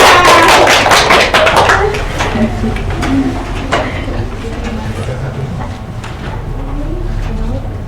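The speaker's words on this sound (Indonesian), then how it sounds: "Oke, tepuk tangan semuanya." Children in a primary school classroom clap their hands together, a loud burst of scattered claps at first that thins out into a few sparse taps, with faint voices underneath.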